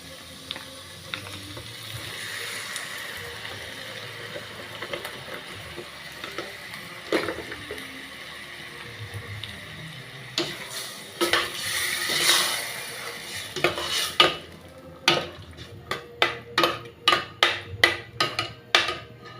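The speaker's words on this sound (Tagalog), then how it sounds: "Tapos ilagay natin yung tomato sauce." Tomato sauce poured into a hot pan with garlic and oil, first a soft bubbling sizzle, then a run of sharp, rapid stirring knocks and scrapes near the end, close by, with no talking.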